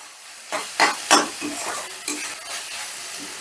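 Cardamom pods and cinnamon pieces are stirred in hot oil in a frying pan, giving a low sizzle and a few close scraping stir strokes in an irregular rhythm, with no talking.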